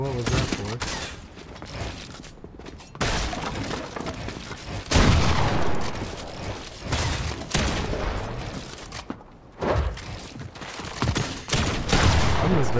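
Bursts of gunfire crackle in Fortnite during a pit challenge, repeated volleys of fast shots broken by short pauses, mixed with game effects and a player talking over parts of the action.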